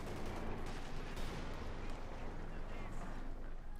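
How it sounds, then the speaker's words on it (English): Continuous battle noise from Company of Heroes 2 with bazooka fire against a Wehrmacht Panzer, a dense, loud wash of overlapping blasts and gunfire rumbling steadily throughout without clear gaps. "We're actually down to half health due to all the bazooka fire."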